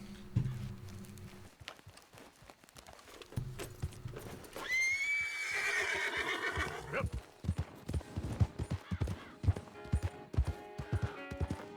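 A horse whinnies loudly in the Red Dead 2 video game, a rising then falling call, with clip-clopping hooves and other game sounds before and after it.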